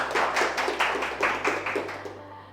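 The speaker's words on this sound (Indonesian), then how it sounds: "Baik, tepuk tangan untuk teman-teman." Brief applause with evenly spaced, rhythmic claps from a small group at a university class, tapering off near the end.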